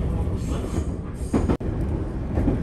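A JR Kyushu train departing Kokura Station rumbles steadily along the tracks, passing under the Kagoshima Main Line and freight line, with a continuous roar of wheels on rails and a brief dip in the noise partway through.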